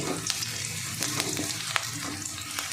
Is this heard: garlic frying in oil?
yes